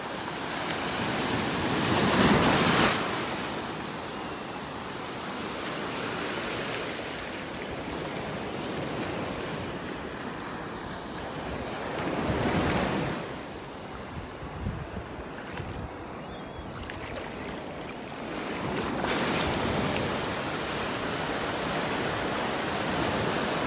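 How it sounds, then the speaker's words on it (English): Ocean surf breaking on a beach in North Naples, Florida, with a loud continuous wash of water and three distinct swells cresting and crashing at intervals, mixed with light wind noise and no talking. "Love listening to the waves."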